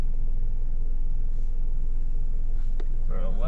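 Idling 2002 Toyota Corolla with a 1.8L engine and a lean-running fault, a steady low rumble heard close, with a brief knock and a voice speaking near the end.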